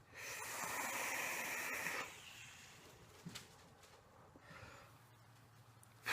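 Vapour exhaled from an iJoy Maxo Quad 315W mod running at 200 watts: a loud, steady airy hiss for about two seconds, then fainter breathy rushes and a few soft clicks, with no talking.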